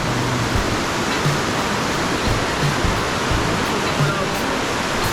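Steady rushing water fills the scene, a broad continuous wash of a stream flowing over rocks near its upstream, close and even throughout.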